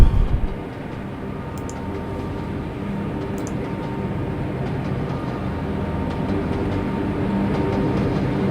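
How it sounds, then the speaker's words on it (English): Train rumbling steadily along the track in the railway simulator game Trainz, a continuous low rolling drone with a faint rhythmic clatter, fairly loud and building slightly, with no voices. "Move the train a little bit."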